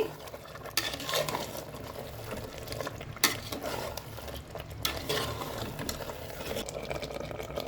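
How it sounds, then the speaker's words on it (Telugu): Goat head curry meat frying and being stirred in a pan, with steady sizzling and scraping through the whole stretch and a few sharper knocks of the spoon against the pan. "ఇప్పుడు తలకాయ కూర వేసుకుందామమ్మా. బాగా ఫ్రై చేయాలి."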